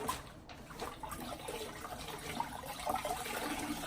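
A wash towel being rinsed in a bucket of no-rinse car wash solution during a car wash, giving steady close sloshing and splashing of water for several seconds.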